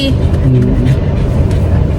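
Cars pass in road traffic with a continuous engine rumble and tire hiss. Voices talk over the noise.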